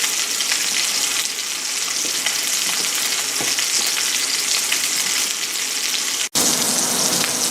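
Pork chops sear in a pan for a braised pork chop in black garlic sauce, giving a loud, steady broadband sizzle that runs unbroken. It drops out for a split second near the end, then resumes.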